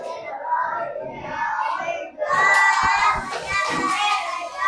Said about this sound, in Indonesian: Tepuk tangan dong untuk kalau